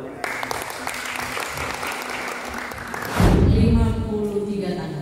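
An indoor audience at an Indonesian Islamic preachers' training gathering breaks into loud, sustained applause after a man's speech, the clapping swelling near and then easing slightly.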